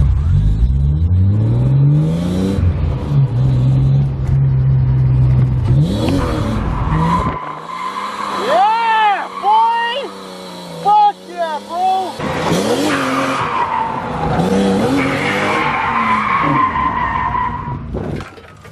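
BMW E36 drift car sliding with a clutch kick, engine revving hard and tires squealing and skidding loudly in long wavering bursts, with people talking over parts of the run.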